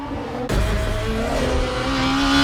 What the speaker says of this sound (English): the little rock pebble sounds as you drive over a shortcut, or the whine of the engine as you shift gears